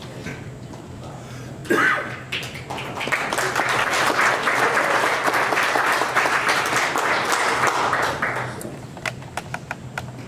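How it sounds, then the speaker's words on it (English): Audience applause at a Winnebago County board meeting: a sharp tap, then a sustained burst of clapping from the room for several seconds before it tapers to scattered claps. "They don't normally all end in applause like that."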